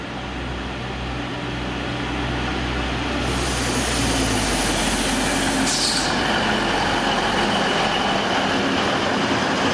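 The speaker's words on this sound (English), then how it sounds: "this Class 612 unit departs for Lindau with the" A Class 612 diesel multiple unit pulls away from the platform at Immenstadt, its engine a loud, steady drone that swells in power as it departs, with a brief hiss partway through.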